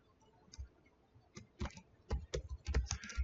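Keys on a computer keyboard clatter in short irregular bursts as a code comment is typed, soft taps at first then quicker clusters of clicks, close and alone with no talk.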